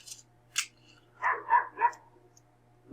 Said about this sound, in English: pay attention when dogs bark.